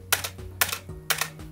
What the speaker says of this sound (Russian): При печати идет звон по корпусу.